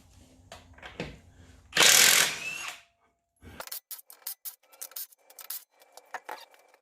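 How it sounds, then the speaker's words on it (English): Work on a Toyota Highlander's front wheel begins with soft handling noises, then a loud one-second whir of a power tool, followed by a quiet pause and a run of sharp metallic clicks and clanks nearby. "So the first thing we're going to do is remove the wheel a little quick"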